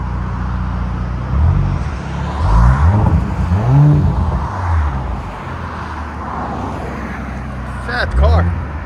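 A 2019 Audi S7 with a 2.9L twin-turbo V6 on straight pipes revs in a series of loud, rising and falling blips close by, with the idle rumbling between them.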